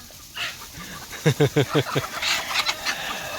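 Chickens cluck in a quick burst of several short calls, with a person talking and a voice calling out nearby.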